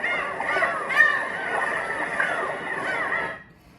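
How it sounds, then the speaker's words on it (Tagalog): Seagull cries from a Momcozy white noise machine, a steady layered wash of gull calls that plays for about three and a half seconds and then cuts off abruptly. "Number 3, seagull sound."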